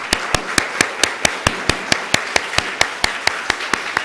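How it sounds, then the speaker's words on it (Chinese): Applause for Sunday school children at a Christmas church service, heard as a steady, rhythmic unison clap at about four claps per second. The beat is loud and even and continues for several seconds. "我们给你们鼓掌"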